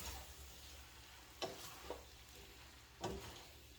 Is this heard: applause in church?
no